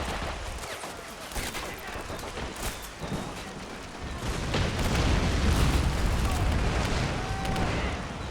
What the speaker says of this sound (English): Definitely a lot of firing going over here